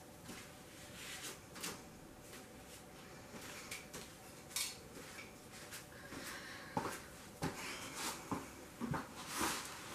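Paint being stirred and mixed in a cup: quiet, close scraping with scattered light clinks and taps, irregular and continuing throughout with no voices.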